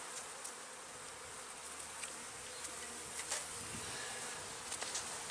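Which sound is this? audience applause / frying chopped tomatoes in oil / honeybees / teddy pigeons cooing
honeybees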